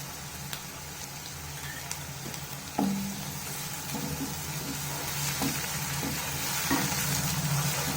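Ginger garlic paste fries in butter with onions in a pan for palak paneer, crackling in a steady close sizzle while a spoon scrapes and stirs now and then.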